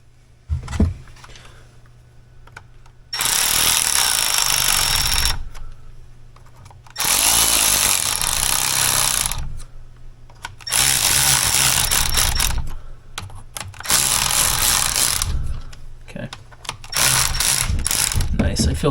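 Ratchet wrench fastening a part on a Bobcat hydraulic control block during a reseal and repair, four loud bursts of rapid clicking separated by short quiet pauses.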